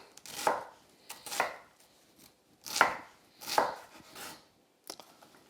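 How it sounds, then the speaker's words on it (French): A knife finely chopping red onion on a board, crisp, close strokes in short irregular bursts separated by brief pauses. "vous avez vos petits morceaux d'oignon tout ciselés"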